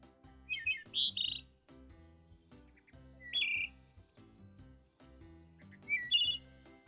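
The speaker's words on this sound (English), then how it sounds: "thrush" Thrush song in a forest, three bright whistled phrases spaced a few seconds apart over a low steady background.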